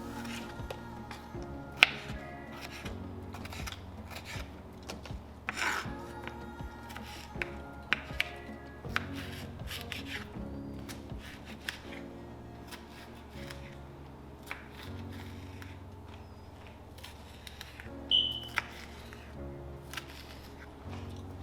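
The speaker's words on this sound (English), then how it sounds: "Just dice up these peppers" A knife dicing sliced bell peppers on a board makes scattered, sharp taps and chops in irregular bursts, fairly faint, over a steady low background hum.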